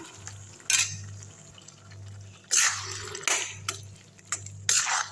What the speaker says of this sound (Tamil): இப்போ இது வந்து மிளகு மசாலா எடுத்து போட்டுக்கலாம் நல்லா வதக்கி விட்டுடலாம்